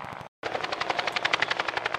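A helicopter lifts off and climbs quickly at the Warbirds over Wanaka air show, its rotor thumping in a fast, even beat after a brief silent gap, loud and close.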